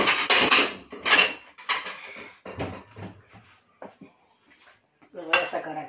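Pieces of cod are lifted out of an air fryer basket onto a small plate, with a burst of clattering metal and dish knocks followed by scattered lighter clinks and taps.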